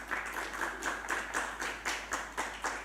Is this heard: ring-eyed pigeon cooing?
no